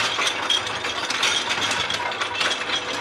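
A Rola grinding machine crushing mud for gold mining, a dense, continuous loud mechanical clatter and rattling grind with no pauses.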